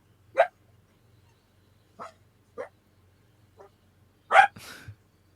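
Dogs bark indoors in short, separate bursts, a few sharp yips spread over several seconds, ending in a louder bark followed by a brief whine, against near silence.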